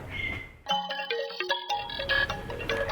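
A phone ringtone for an incoming call plays a bright, repeating melodic chime pattern, loud and close, after a brief snippet of voice.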